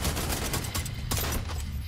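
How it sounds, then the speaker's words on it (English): Rapid gunfire from the co-op shooter game The Division 2 crackles in a dense, continuous burst of overlapping shots over a low rumble, loud and close, with no talking. "Let me try shoot it."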